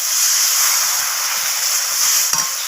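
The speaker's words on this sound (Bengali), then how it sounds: "এখন দিয়ে দেব যে মশলাটা আমি মিক্সিতে পেস্ট করে রেখেছিলাম, সেই মশলাটা এখানে দিয়ে দেব।" Spice paste ground in a mixer sizzles steadily in hot oil in a pan, a loud, continuous hiss with no talk, joined by a faint clink near the end. The dish is an okra and potato curry.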